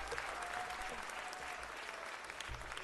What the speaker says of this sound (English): join me in giving a big round of applause to our president, Mr. Herb